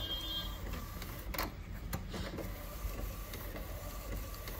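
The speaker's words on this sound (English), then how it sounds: "Okay, let it print." An Epson L18050 DTF printer printing, a steady low mechanical whir and hum running throughout, with a few soft clicks from the print head carriage partway through.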